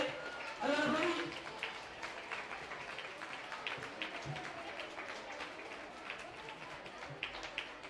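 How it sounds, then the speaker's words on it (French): Spectators clap as a competitor passes under the arch of Aix-en-Provence, a light, somewhat distant patter of applause running under a voice talking loudly nearby. "Allez, le public, on applaudit s'il vous plaît, on applaudit."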